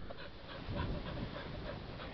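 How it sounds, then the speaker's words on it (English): A male red-and-white American cattle-bred Border Collie puppy pants close by. Its quick, steady breaths repeat evenly and softly, with no voices around. "I really like I like this puppy here. It's a Tripper Ray puppy"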